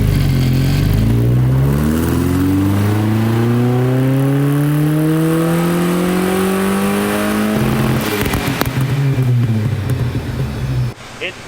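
An Alfa Romeo GTV engine revs hard on a chassis dyno in a loud, close sweep that rises steadily in pitch across several seconds. It then cuts off into clattering and a quieter idle.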